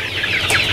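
KUB chickens cluck in a short, continuous murmur at a poultry farm in Teruai village, Pujut, a dense flock sound with no talk.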